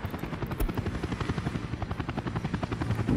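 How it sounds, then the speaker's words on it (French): A helicopter in the city-building game Workers & Resources: Soviet Republic hovers close by while carrying concrete, its rotor chopping in a steady, rapid rhythmic thump over a constant engine drone. "Je me suis jamais amusé avec les hélicoptères"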